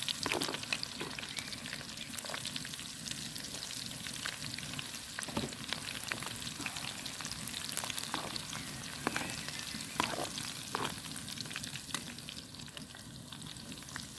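Fat sizzles and spits steadily in a pan on a titanium camping stove, a continuous crackling fry with scattered pops, fairly quiet and close, with no talk over it.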